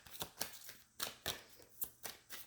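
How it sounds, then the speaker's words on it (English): Tarot cards shuffled by hand in a series of crisp riffling bursts, about eight papery flutters spaced irregularly across a couple of seconds, close and fairly quiet with no voices. "I never like the way these cards shuffle"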